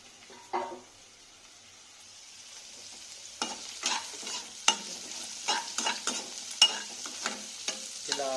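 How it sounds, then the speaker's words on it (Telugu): Onions frying in oil in a pan with a faint sizzle, followed by a series of clicking scrapes as they are stirred, growing busier toward the end; close and without any talking. "ఆయిల్లో ఫ్రై చేసుకోవాలి."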